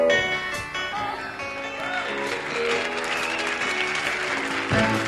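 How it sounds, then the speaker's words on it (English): An audience claps along during a live performance of a 1975 song, with steady hand claps mixed under loud band music throughout. "You can clap your hands, it's all right."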